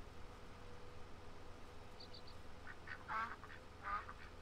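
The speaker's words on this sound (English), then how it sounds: "Ducks." Ducks in the Farming Simulator 19 game on a farm map give a few short, faint quacks. The quacks come in small bursts over a steady low hum of engine and ambient noise.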